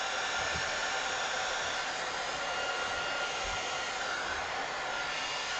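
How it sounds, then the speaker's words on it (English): A heat gun blows hot air in a continuous, loud, even whoosh with no break from start to finish. "Need to cool the heat gun down a little bit too"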